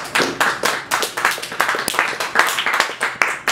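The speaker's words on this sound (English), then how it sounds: "I feel like I should ask for another round of applause." A small audience at a live experimental poetry reading claps in a quick, uneven round, with individual hand claps distinct and close, with no talking over it.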